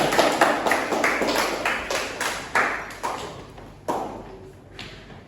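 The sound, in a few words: classroom clapping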